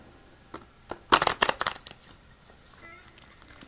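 A deck of cards being shuffled, a brief crisp riffle of rapid flutters lasting about a second, faint and close, with a few soft taps before and after in an otherwise quiet room.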